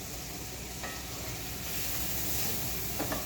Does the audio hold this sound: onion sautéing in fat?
yes